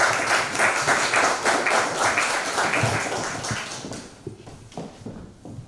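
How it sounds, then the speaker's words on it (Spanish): Audience at a book presentation for a volume on the cultures of the Lower Urubamba gives loud, sustained applause that thins out into scattered claps near the end. "Los recibimos también con fuerte aplauso."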